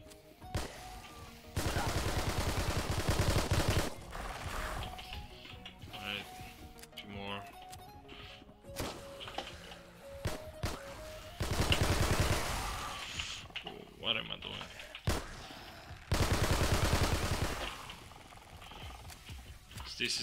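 SMG fire in the zombie survival game Dead Frontier 2, several long automatic bursts of rapid shots separated by quieter stretches, with someone talking between them.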